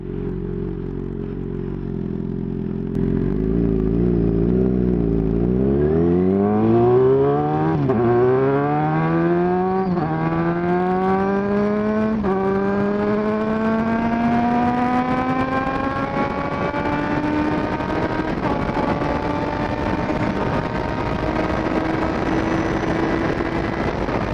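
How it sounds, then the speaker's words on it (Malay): A Yamaha XJ6 motorcycle accelerates hard through the gears, its engine note climbing loudly in repeated rising sweeps with brief breaks at each shift, close and wind-buffeted, no talking. "kau drop gear, kau blip throttle, ada bunyi sikit lah, bunyi tembak-tembak tu, tapi tak teruk sangat"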